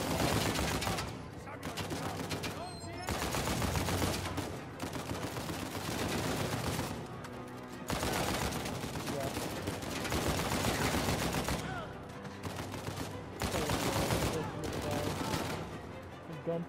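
Heavy bursts of automatic gunfire and fusillades in Uncharted 4: A Thief's End, loud repeated volleys separated by short lulls, with a player's voice talking over parts of the firefight.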